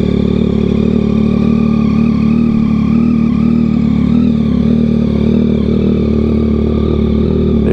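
A 2022 Yamaha XSR900 fitted with a Kelpi shorty exhaust idles slightly unevenly, producing a loud, continuous engine rumble up close for several seconds, with no speech.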